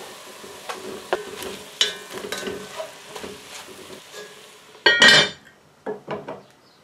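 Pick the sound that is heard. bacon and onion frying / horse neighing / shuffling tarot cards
bacon and onion frying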